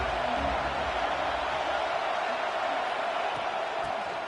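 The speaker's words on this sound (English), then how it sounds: "This crowd ready to make its presence known." A packed stadium crowd at a college football game, a steady, loud, broad roar from many distant voices that continues throughout.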